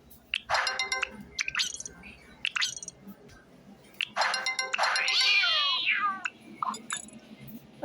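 Cartoonish cat meows from the video game Cat Life come in several short bursts plus one longer drawn-out meow, with clinks and drips between them, and no voices.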